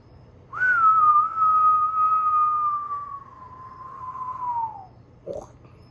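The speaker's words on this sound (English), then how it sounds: "I know that wasn't the best whistle." A person whistles one long, sustained tone that drifts slowly downward in pitch over about four seconds, fairly close and clear, ending in a brief breathy trail.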